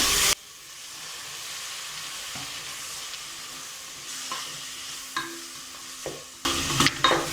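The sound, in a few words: onions and tomatoes sautéing for mutton biryani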